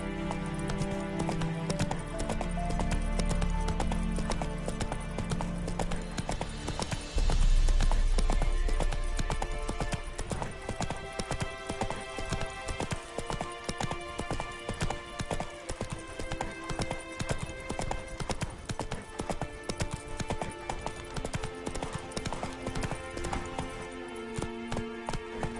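Hooves of the horse Roach clop steadily in The Witcher 3, a brisk rhythmic run over a dense, loud layer of game music and ambience that continues throughout.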